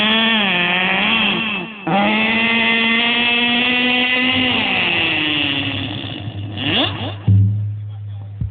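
A struggling vehicle engine labours unevenly at a Ram Janaki temple, its strained drone rising and falling with a brief dip and a rough, sputtering end, while people talk over it.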